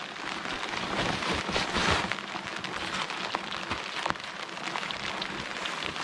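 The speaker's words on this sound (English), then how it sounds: "rain getting heavier" Steady heavy rain pours down on a canoe trip in the Yukon wilderness, a dense hiss of drops drumming on surfaces nearby, with occasional louder splats and no voices.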